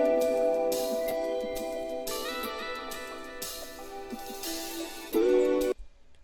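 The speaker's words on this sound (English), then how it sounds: "I knew it needed some like live drum percussion sounds." A live drum and percussion fill sample from a crate bundle, playing in bursts of hits over a bright tonal layer before a loud final accent and a sudden cut to silence.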